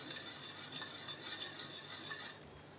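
A spoon stirs a thickening chocolate mixture in a pot on the stove, giving soft continuous scraping and swishing against the pot that stops abruptly near the end, quiet and close with no talking.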